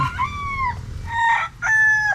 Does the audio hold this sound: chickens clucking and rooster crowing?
yes